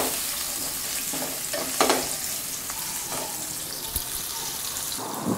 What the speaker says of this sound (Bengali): এখন আমি দুই তিন মিনিটের জন্য নেড়ে চেড়ে আলুগুলোকে একটু হালকা ভেজে নিব